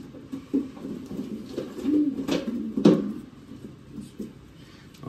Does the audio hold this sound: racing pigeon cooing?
yes